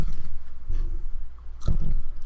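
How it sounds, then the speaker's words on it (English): Chips being chewed right into a microphone, a close, loud run of crunchy bites and mouth noises with a couple of heavier crunches, no talking. "so I shouldn't chew chips right in the microphone"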